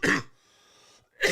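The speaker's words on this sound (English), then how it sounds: "That was supposed to be a fake cough, and it actually ended up being a real cough." A single real cough from a man with a cold, close and loud, split into two harsh bursts with a short quiet gap between them.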